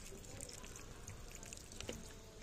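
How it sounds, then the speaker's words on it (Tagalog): Water trickles and drips while dry plant propagations are watered in hot weather, a soft continuous splash with small scattered droplet plinks over steady background noise. "yung mga propagation ko na didiligin natin ngayon dahil tuyong-tuyo na po sila"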